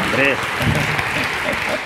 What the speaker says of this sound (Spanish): Oye, pues un aplauso a la web.